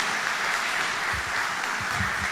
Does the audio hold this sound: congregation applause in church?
yes